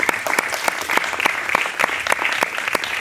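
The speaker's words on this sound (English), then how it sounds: "And you guys, round of applause." A small audience at a recording arts school speaking event claps after a talk, a few distinct hand claps in quick uneven rhythm, close and fairly loud.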